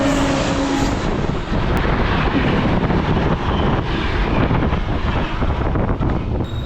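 Yelagiri Express train running at speed, a steady loud roaring rumble with heavy wind buffeting throughout, no speech.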